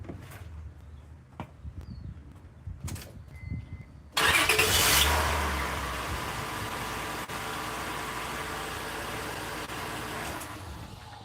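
A 2003 Honda Pilot engine cranks and catches after a few clicks and light handling noises, flaring loudly and then settling into a steady, close idle that continues to the end.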